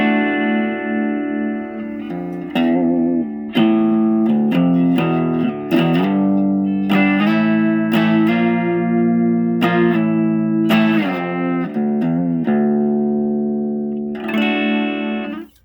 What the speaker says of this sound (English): into the clean channel on the Boss Katana Mini, and it sounds like this